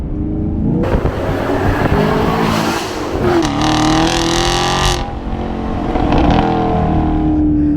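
A sixth-generation Chevrolet Camaro LT1 V8 with an MPP performance exhaust revs hard in repeated bursts, a loud throaty exhaust roaring up and dropping back, close by with no talking.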